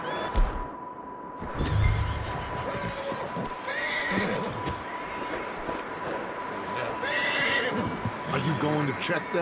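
Horses in the video game Red Dead Redemption 2 whinny and neigh several times over faint hoof clip-clops, with a steady electronic tone underneath and a person talking in places.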